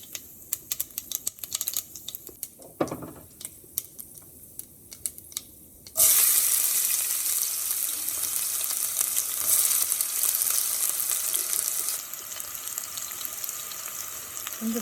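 Chopped onion hits hot peanut oil after mustard seeds have popped, setting off a loud, steady, close sizzle that holds to the end, following a few seconds of quieter crackling and scattered taps.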